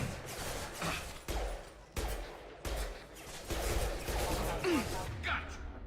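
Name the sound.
gunfire in Mass Effect 2 video game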